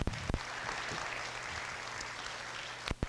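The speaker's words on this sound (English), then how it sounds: "Give Lorene a round of applause." A group applauds at a blues dance workshop, a soft, steady spread of clapping in a room, fairly distant, with a few sharper knocks and thumps near the start and the end.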